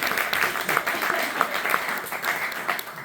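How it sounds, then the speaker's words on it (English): Moderate applause from a small audience, steady clapping that sounds a little distant and thin. "round of applause for you guys"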